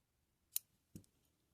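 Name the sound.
scissors cutting yarn, amigurumi crochet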